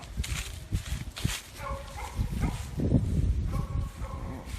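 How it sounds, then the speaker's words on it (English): Small puppies whimper and yip close by in a brief burst of high, broken cries over soft shuffling noise. "That's loads of puppies."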